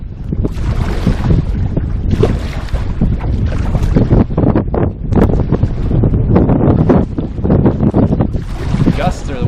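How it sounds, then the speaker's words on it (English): Strong wind gusts buffet the microphone on a lake during a solo canoe trip in Killarney Provincial Park, loud rumbling bursts rising and falling continuously, with a voice partly buried beneath the roar. "probably can't hear me because of the wind"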